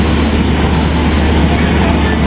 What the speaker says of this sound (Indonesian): diberangkatkan kereta api Ranggajati dari stasiun Surabaya Gubeng menuju stasiun